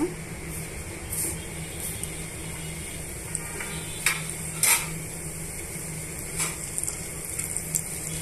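A tablespoon of cumin seeds sizzles in hot oil for a masala dosa filling, a steady close frying hiss broken by a few sharp clicks and taps of a spoon against the pan.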